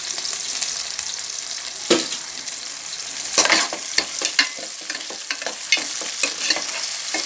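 Onion and tomato pieces frying in oil for a village-style mutton curry, a continuous sizzle broken by repeated scraping stirs and louder clattering bursts, close and without speech.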